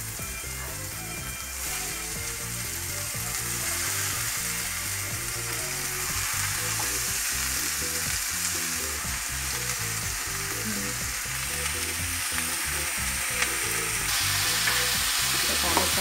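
Spinach stir-fries in a hot pan with a loud, continuous sizzle that holds steady throughout, while faint scraping from stirring runs through it and no one speaks.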